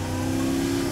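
A twin-turbo Audi R8 widebody with a V10 engine revs loudly and steadily up close, a strong constant roar holding for about a second with no voices.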